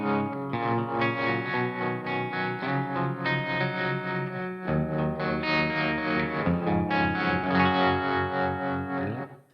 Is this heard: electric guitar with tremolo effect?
yes